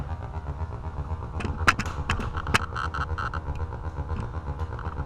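A homemade Dalek delay pedal built on a bucket-brigade chip echoes a modular synth, giving a steady droning hum with a few sharp repeating clicks that ring out and fade.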